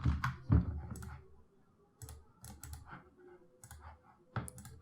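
Soft computer mouse clicks and keyboard taps sound while a scene is saved in a software editor; sparse, irregular quiet clicks come close up in a quiet room, with no talk.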